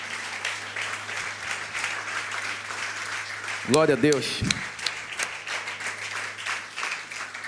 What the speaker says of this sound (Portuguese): Se coloca de pé aplaudindo a Jesus